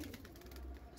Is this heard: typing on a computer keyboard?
no